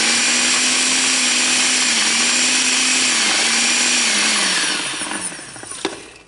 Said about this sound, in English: make sure you hold the lid down on your blender. Start on low, and we're going to chop